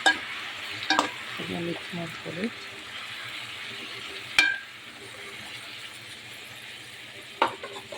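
A spoon stirs tomato paste into ground masala for a kabuli chickpea masala curry, with scraping strokes and a few sharp clinks against the pan over a faint sizzle, while a voice speaks briefly in the background.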